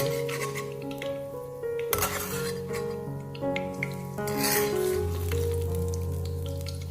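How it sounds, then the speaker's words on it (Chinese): Scallions and ginger fry in hot oil, a steady crackling sizzle with clinks of a utensil against the pan, close and moderately loud, with no talking. "炒至葱姜表面微微发黄，就可以用漏勺把葱姜全部捞出来不要。"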